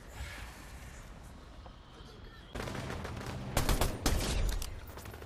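Rapid bursts of gunfire ring out in a Fortnite match, starting with a distant rumble and then a louder stretch of repeated close shots.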